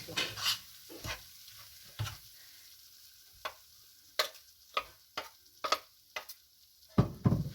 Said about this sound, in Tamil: இப்போ இந்த பொடியும் போட்டு லைட்டாக ஒரு பரட்டிக்கலாம்